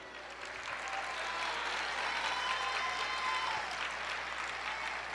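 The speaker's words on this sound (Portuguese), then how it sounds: "Aplauda, libere o céu, libere a alegria, o júbilo." A church congregation applauds during an energetic worship service, a continuous, full wash of clapping from a large crowd, steady and even in volume with no pauses.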